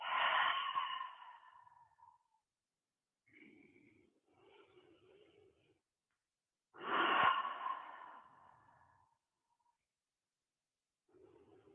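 Slow, deep breaths during a gentle sun salutation yoga relaxation, each exhale let out as an audible sigh; two long, close breath sounds with quiet pauses between, and no talking.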